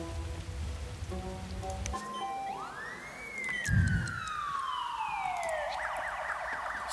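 Emergency vehicle sirens wail in the city-building game SimCity during a fire. A single siren sweeps up and then slowly glides down, prominent over a rain-like hiss and soft background music, with a brief low thump near the middle.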